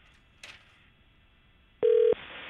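A call to a cell phone sounds over a steady tone on the line, with a brief click and then a loud ringback tone pulse, all fairly near and without talking.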